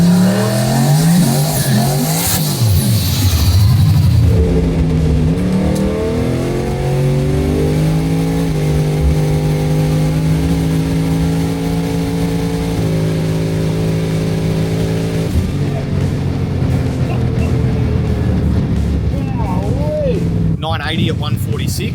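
A Holden Monaro drag car on a no-prep drag strip launches softly at low revs, the engine note climbing steadily through gears and holding a loud, near drone before fading off, with people talking over it.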